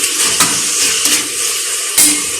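A pan of chicken curry being stirred as it fries, with salt and turmeric added early, giving a steady close sizzle under scraping spoon strokes and a few sharper clinks against the pan.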